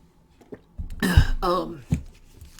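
A person clears their throat with a couple of rough, gravelly bursts, close to the listener, after a few faint clicks and before a short final grunt.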